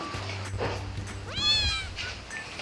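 A cat gives a single rising-then-falling meow near the microphone, heard over a low background hum in a home setting.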